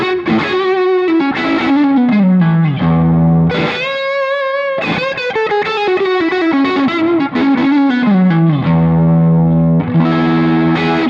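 An electric guitar plays through a modded Fender amp set at the upper end of its lower-gain sound, giving loud, slightly overdriven chords and single-note lines in a steady, continuous passage.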